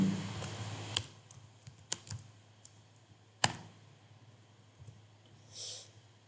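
Keys tapped on a computer keyboard while entering values into an Excel spreadsheet: a few sparse, crisp clicks spread out over quiet gaps, close and fairly soft, with no talking.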